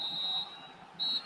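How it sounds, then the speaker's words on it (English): A referee blows the half-time whistle in the football video game FIFA 19: two short, shrill blasts, the second slightly louder, over faint crowd ambience. "And there is the half-time whistle."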